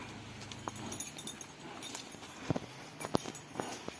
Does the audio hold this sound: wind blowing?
no